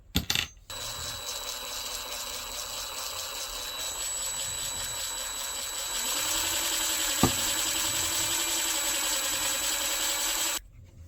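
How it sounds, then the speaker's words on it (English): A drill bores a hole down the center of a wooden dowel, making a steady, close whirring grind that rises in intensity partway through, with a sharp click midway before the motor stops. "Now I'm going to drill a hole down the center of it"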